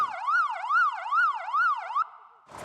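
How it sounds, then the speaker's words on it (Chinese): Second of four warning siren alarm sounds, a rapid electronic yelp that rises and falls about every half second in a steady cycle, loud and close, then settles into a flat tone and stops sharply. "不同的警报声有没有代表不同的仪式"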